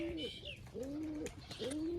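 Pigeons kept for sale coo in a close, repeated series of soft, low rolling calls, with brief pauses between them and a quiet background.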